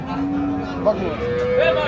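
A cow lets out a long, low moo close by, its call rising slightly toward the end.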